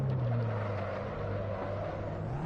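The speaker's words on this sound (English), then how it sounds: "I can hear the engine of the car behind me." Engine of a following Abarth 500 EsseEsse race car in Assetto Corsa at Barcelona, a steady droning hum close behind at moderate level, slightly shifting pitch near the end, without talk.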